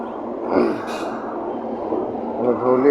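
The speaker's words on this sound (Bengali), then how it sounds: "ধৌলি এক্সপ্রেস ছেড়ে দিল যে শালিমার থেকে।" Dhauli Express pulling out of Shalimar station, a steady, loud rumble of the moving train carrying through the whole stretch, with nearby voices mixed in.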